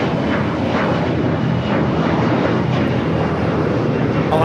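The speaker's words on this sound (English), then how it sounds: "taking off to Monterey on the E175" An Embraer E175 airliner takes off at Los Angeles International Airport, its engines producing a loud, steady roar that stays strong throughout, with faint talk underneath.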